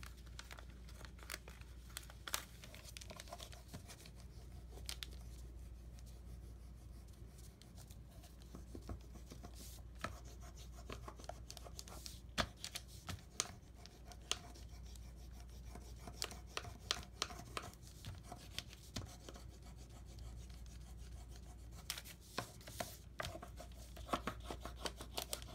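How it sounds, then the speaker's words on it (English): A bone folder rubs over packing tape on paper, giving a steady close scratchy rubbing and crinkling texture with brief sharper scrapes, continuing throughout with no talk. "Then you use your bone folder. You can use a spoon, any flat object. And you rub."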